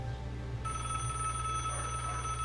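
A telephone rings steadily and loudly in the Broken Sword adventure game, a continuous electronic bell over a low ambient hum.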